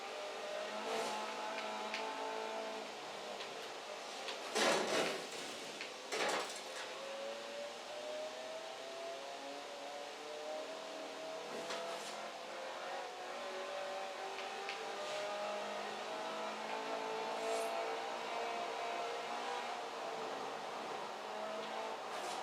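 Light car with a 6-speed gearbox in Forza Horizon 4, engine note rising and falling through gear changes at moderate level, with a couple of short sharp bursts along the way.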